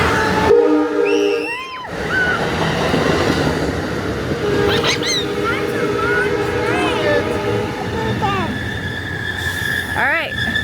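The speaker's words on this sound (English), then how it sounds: "That's a long train." A train rumbles past steadily with its wheels clattering, horn-like tones sounding over the noise and people talking in the background.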